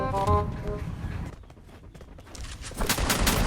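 Shotgun blasts ring out in the mobile battle game Free Fire, a few heavy reports at the start and more near the end with a quieter gap between, mixed with in-game clatter.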